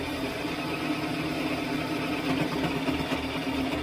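A sewing machine runs a steady straight stitch through dress fabric, a continuous close whirring hum with a fine rapid mechanical chatter, alone and unbroken for a few seconds.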